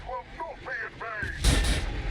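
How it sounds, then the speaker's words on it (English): A grenade explodes in the video game Warhammer 40K Battlesector with a sudden heavy boom and crackle, following a few warbling game effects. "It's gonna hurt their units too with the explosion."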